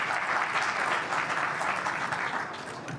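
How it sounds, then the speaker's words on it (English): Audience applause at a cannabis investment conference, a sustained, even roar of many people clapping heard from a distance, tapering off slightly near the end. "Let's give a round of applause there one time."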